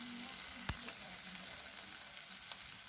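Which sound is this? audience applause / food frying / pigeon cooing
food frying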